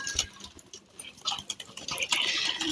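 Pigeons kept in a cage coo softly amid rustling and scattered bird noise, faint and somewhat distant, with a steady hiss underneath.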